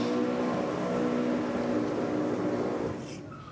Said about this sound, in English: we'll just let Joe sing the sound of our people with his burnout there in the Aeroflow lane